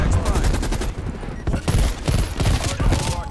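Sustained RPD light machine gun fire rattles in long, dense automatic bursts at Nuketown in a shooter game, loud and close, with a brief lull midway before the firing resumes.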